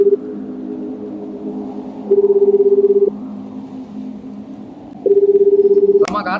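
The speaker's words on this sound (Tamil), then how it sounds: "சரி இரு, அவங்க அம்மாவுக்கு ஃபோன் அடிக்கிறேன்" Phone call being dialed to reach a mother: a steady tone runs throughout, broken by two longer, louder dialing or ringback tones, ending in a brief click-like burst.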